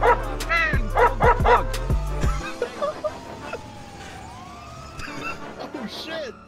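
A dog barks in the video game GTA 5 role-play: a quick run of four or five loud, close barks and yips, followed by busy game sounds with a siren-like sweep and excited voices talking over them.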